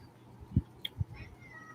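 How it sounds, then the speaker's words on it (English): A pet cat named Primo gives a couple of short meows close by indoors, separated by brief pauses, with low background noise and a faint tonal sound between them. "That's my cat, y'all."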